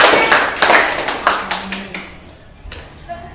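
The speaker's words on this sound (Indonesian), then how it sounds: "Kita tepuk tangan untuk" A school class claps in rhythm, a string of sharp, evenly spaced hand claps that slows and fades toward the end, loud and close in a classroom, with speech underneath.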